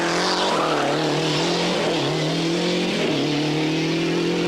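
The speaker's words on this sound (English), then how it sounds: "The Cosworth getting the power down, always spectacular to watch" A Ford Cosworth rally car at the 1996 Rallye du Valais accelerates hard on narrow Swiss roads. The engine is loud and close, its pitch climbing and dipping through gear changes with a sustained raw roar.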